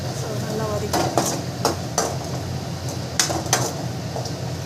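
Masala sautéed in a pan with a spatula, a steady low sizzle under repeated sharp scraping and tapping strokes of metal against the pan, close and fairly loud.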